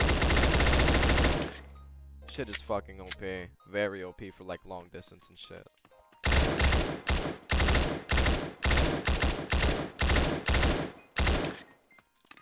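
The Krieg 6, a two-tap gun in the Roblox shooter Chicago Remastered, firing a fast string of loud, evenly spaced shots, preceded by a long burst, with someone talking over the opening.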